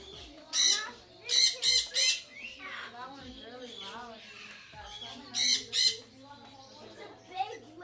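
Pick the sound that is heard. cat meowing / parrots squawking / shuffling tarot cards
parrots squawking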